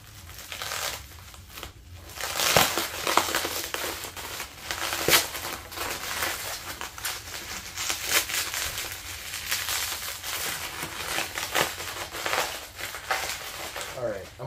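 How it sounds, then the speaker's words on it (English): Bubble wrap is crushed and crinkled by hand close up, producing continuous dense crackling and rustling with louder crunchy bursts throughout. "Look at this. Bubble wrap there."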